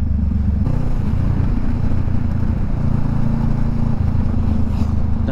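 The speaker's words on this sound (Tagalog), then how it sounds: "ilabas niya yung talagang tunog ng motor natin habang nagra-rides" A Honda Rebel 500 motorcycle engine drones continuously at close range, steady and loud with slight shifts in pitch as it rides along.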